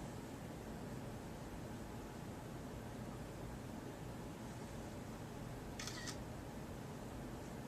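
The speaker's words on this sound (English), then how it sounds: "shutter on my iPhone" A single quick iPhone camera shutter click, brief and crisp, cutting through a steady, even hiss of background noise.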